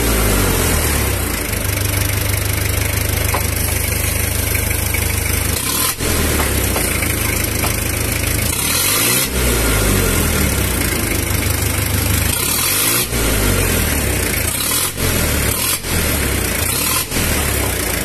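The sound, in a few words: used Japanese Iseki tractor engine idling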